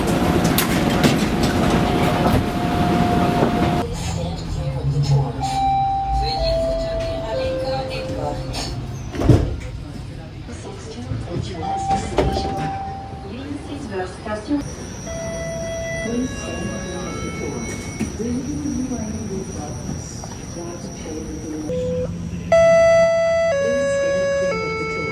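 Toronto TTC streetcar running on rails, a low rumble with clicks and clunks from the car and doors, overlaid by electronic chime tones and automated announcements.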